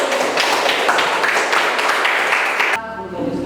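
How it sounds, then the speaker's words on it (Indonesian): A vocational school class at SMK Negeri 3 Penajam Paser Utara applauds a student with loud, dense clapping that stops abruptly near the end, giving way to a quieter room. "Kita tepuk tangan dulu untuk Raymondus"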